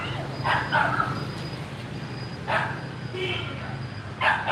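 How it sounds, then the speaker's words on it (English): Outdoors near a supermarket in Ho Chi Minh City, a dog being hit by a small child lets out three short, sharp yelps and whines spread over a few seconds, under steady background noise and nearby voices. "that dog is getting a beating from a little kid."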